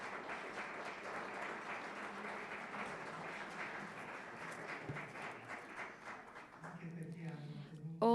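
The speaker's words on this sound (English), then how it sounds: "Otherwise, we thank him with a great applause" Sustained applause from a seated audience honouring a senator at a talk on the World Health Organization, a steady dense patter of many hands lasting several seconds and thinning slightly near the end, with faint voices underneath.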